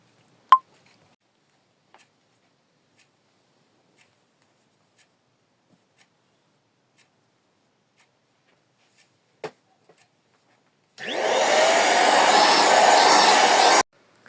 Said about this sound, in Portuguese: ninguém merece ter que ficar ouvindo o barulho de aspirador de pó na cabeça o tempo todo